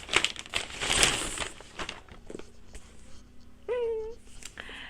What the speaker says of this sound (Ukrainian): Ось тако відкриваємо наш пакет.